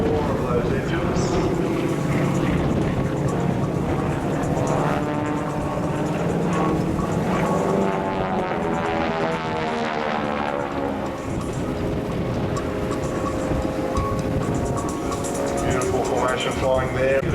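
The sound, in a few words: F/A-18F Super Hornet jet engines roaring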